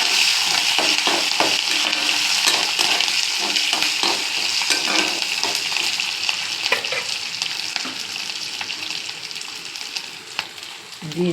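Curry leaves, ginger and green chillies frying in hot oil for lemon rice with methi, a steady loud sizzle with scattered clicks of stirring throughout.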